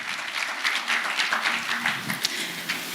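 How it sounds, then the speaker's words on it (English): An audience at a health insurance conversation event claps moderately as the CEO walks up to the podium, giving a lively, uneven patter of hands at medium volume that swells and dips over a few seconds. "Clap for her, she comes up the podium."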